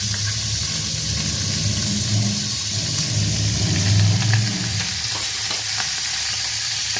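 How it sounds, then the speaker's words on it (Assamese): Ginger garlic paste fries in a little hot oil, giving a steady, close sizzle with a bubbling crackle and occasional stirring scrapes throughout. "আদা নহৰু পেষ্টটো মই ইয়াতে দি দিম।"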